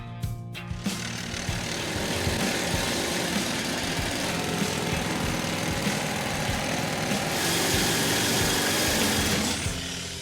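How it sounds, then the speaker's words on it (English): A loud, continuous jackleg pneumatic rock drill striking rock 800 times a minute at a gold mine rattles rapidly over the steady roar of an air compressor, close and unbroken throughout. "drill uses compressed air to strike the rock 800 times a minute"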